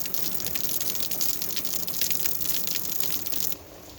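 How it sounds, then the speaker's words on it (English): Light rain falls steadily in a fall vegetable garden, a dense hiss of droplets close by, continuous until it drops in level near the end. "So it's raining a little bit."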